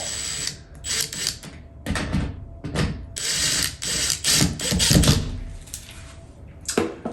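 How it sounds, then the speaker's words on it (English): Toggle bolts being tightened into a drywall wall, their top and bottom bolts snugged up with a ratcheting hand tool: bursts of clicking, grinding turns, loud and close, broken by short pauses, with no talk. "snugging up the top and bottom bolts"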